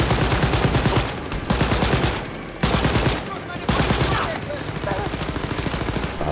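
Rapid automatic rifle fire in the video game Wolfenstein: Youngblood, loud repeated bursts with short pauses between them, continuing almost without a break.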